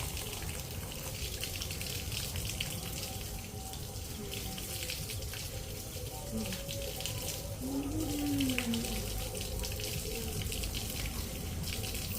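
Running water pours steadily over a stone grinding slab as it is washed, a continuous splashing gush like a tap filling a sink, with faint background noise throughout.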